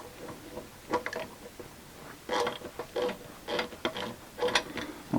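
A special spanner works on a gearbox speedo drive during an overhaul, giving a run of small metallic ratcheting clicks and scrapes in irregular bursts, close and fairly quiet with no talk.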